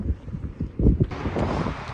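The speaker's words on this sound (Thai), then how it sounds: "ลมที่นี่แรงมากเลย" Strong wind at Black Canyon in Kazakhstan buffets the microphone in loud, rumbling gusts that surge and hold steady without a break.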